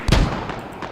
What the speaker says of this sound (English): mortars firing down on the American Hab at the southeast end